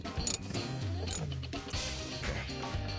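A ratchet clicks and creaks while loosening a bolt on a car door handle of a 2014 Nissan Altima, faint and close, with irregular metallic ticks and a few sharper knocks.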